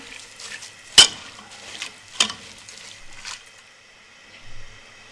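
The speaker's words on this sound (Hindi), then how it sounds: "अब इसको हम अच्छे से मिक्स कर लेंगे।" A spoon mixes cumin, cinnamon, cloves and black pepper in a cooking pot for beef shami kabab, giving two sharp metallic clanks against the pot between softer scraping and stirring, close and alone.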